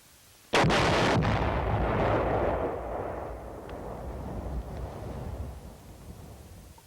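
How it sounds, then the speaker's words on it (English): Demolition charges blow up enemy tunnels with one sudden loud blast, followed by a long rolling rumble and debris noise that slowly dies away. "Bangalore torpedoes, shaped charges, cratering charges, or similar special purpose charges may be used in total tunnel destruction."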